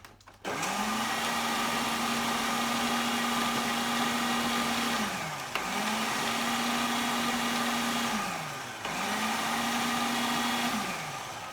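A food processor pulsing shortcrust-style pastry dough, three long loud motor runs of a few seconds each, with a steady whirring hum that cuts off abruptly between pulses.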